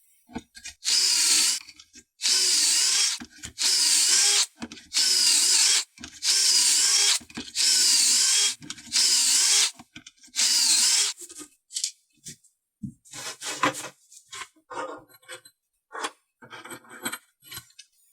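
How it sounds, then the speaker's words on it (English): Power drill boring pocket holes in reclaimed wood table aprons with a pocket-hole jig: about seven loud, steady whirring bursts of a second or so each, separated by short pauses, followed by scattered handling clatter and faint shuffling. "We're going to attach our aprons to the legs using some pocket holes, a couple on each end."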